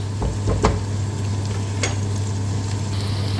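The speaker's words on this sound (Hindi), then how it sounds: "just going to sauté onions" Onions sizzle steadily in a hot pan with oil, a constant close frying hiss broken by a few clinks and scrapes of stirring, with a low hum underneath and no talking.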